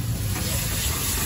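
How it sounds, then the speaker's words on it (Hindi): Tadka tempering for Punjabi dal makhani sizzling at a food stall, a dense continuous hiss of hot oil, close and steady amid background noise. "तड़का हो रहा है पंजाबी।"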